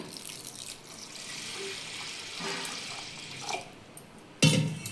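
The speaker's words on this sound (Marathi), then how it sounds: "डाळ स्वच्छ 2-3 पाण्याने धुवून घेऊया" Running water splashes and swishes steadily as urad dal lentils are rinsed, ending in a sudden louder burst of pouring water.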